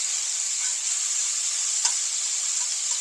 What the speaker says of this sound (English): Now we'll stir that garlic around in there. And it don't need but a minute at this pan being this hot.